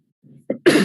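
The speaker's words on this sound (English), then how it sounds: "I apologize, I keep coughing." A person coughs twice in quick succession, a soft low hack followed by a louder, harsher burst, close and indoors with no talk around it.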